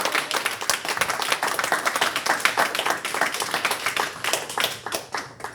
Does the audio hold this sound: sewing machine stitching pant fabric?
no